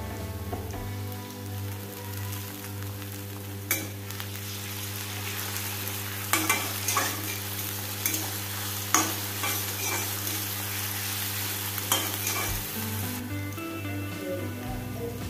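Onions for a mutton curry fry with ginger garlic paste in hot oil, a soft continuous crackle under a steady low hum, with scattered sharper pops and spoon clinks throughout.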